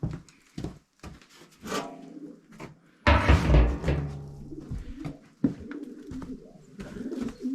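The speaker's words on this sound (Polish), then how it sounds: "widzę, odzywają się tutaj gołąbki" Pigeons cooing in a coop with hens sitting on eggs, several soft throaty coos and calls at varying loudness, close by, with a louder burst midway and no talk.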